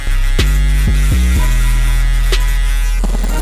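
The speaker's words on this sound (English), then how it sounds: "I'm using my Andis shavers." An Andis electric shaver buzzes steadily close up with a strong mains-like hum, its pitch stepping down briefly several times as it works across a head during a combover taper fade.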